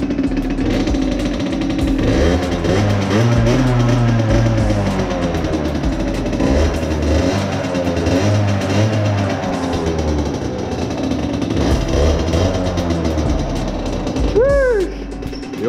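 A sports car engine revs loudly and steadily up close, with deep rumbling and rising and falling pitch sweeps, and a brief sharp whine near the end.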